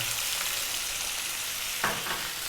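Onion and garlic sizzle in a pan with chicken, a constant bright frying hiss with a brief clatter of stirring near the end, and no voices.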